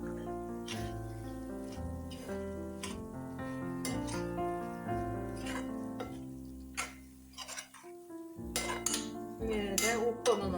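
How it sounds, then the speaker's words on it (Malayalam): A spoon stirs mixed vegetable curry with coriander leaves in a metal pan, giving repeated clinks and scrapes against the pan over a faint simmer. The sounds come close and fairly steady throughout. "മല്ലിയില ചേർത്ത് നന്നായിട്ട് ഇളക്കി"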